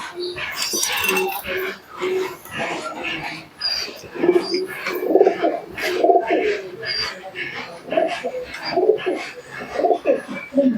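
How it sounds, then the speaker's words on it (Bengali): Teddy pigeons, imported Pakistani birds for sale, cooing in low, repeated throaty phrases close by, with a person talking over them and brief higher chirps mixed in. "চলো এই হচ্ছে পায়রা দেখো"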